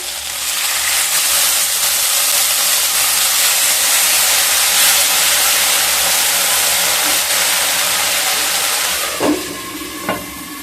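Ginger and fennel paste with a splash of water hitting a hot pan, giving a loud, steady sizzling hiss that holds throughout, with a couple of faint utensil clinks near the end.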